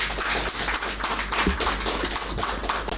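An audience claps steadily in a dense, continuous patter of many hands at a public address, with no speech over it.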